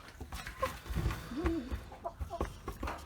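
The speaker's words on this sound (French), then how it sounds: "Il y a un magnifique coq marrance là, lui." A Marans rooster on a poultry farm gives short, low clucks and a brief warbling call, close by amid scattered thumps and farmyard noise.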